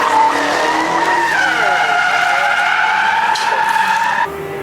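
A 2021 Dodge Hellcat Charger spins donuts, its tires screeching in one long, loud, close squeal with the engine roaring beneath. The squeal wavers in pitch and then cuts off sharply near the end.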